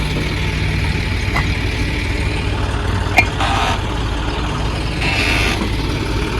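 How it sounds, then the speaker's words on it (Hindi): A small tractor with a 40-foot trolley idles steadily while it is loaded with sand at a work site. The engine drones loud and continuous nearby, with faint scraping and thuds of loading under it and no speech. "काम चला हुआ है, रेता डाल रहे हैं छोटे से ट्रैक्टर में, 40 फुट का ट्रैक्टर ट्रॉली है ये।"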